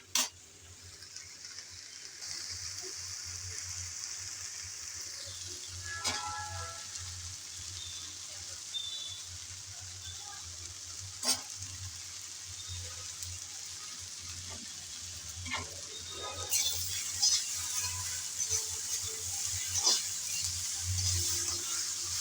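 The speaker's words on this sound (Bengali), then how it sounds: "সব মশলা দিয়ে নেড়ে চেড়ে কিছুক্ষণ ভেজে নিলাম" Kochur loti (taro stolons) fry with spices in a pan, giving a steady, soft sizzle with occasional stirring clicks and scrapes under a low background hum.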